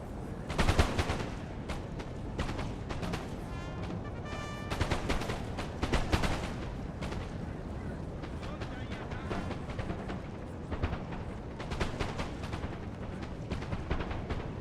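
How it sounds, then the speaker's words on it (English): Continuous musket volleys and artillery fire fill a Napoleon Total War online battle, dense crackling shots and booming blasts rolling without pause, with a voice talking over the din. "These guys are shooting into the hill."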